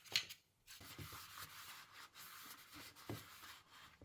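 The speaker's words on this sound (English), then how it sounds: "a little brush inside, getting rid of any dust and dirt all along the edges" A small brush sweeps dust and dirt along the edges of a disassembled PS Portal controller, giving quiet, steady scratchy rubbing strokes with brief pauses, close up and alone.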